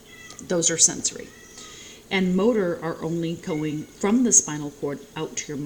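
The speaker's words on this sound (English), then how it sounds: "I don't know if you guys can hear my cat meowing in the background" A pet cat meows repeatedly in the background, with several drawn-out, wavering cries that rise and fall under steady speech from a person talking nearby.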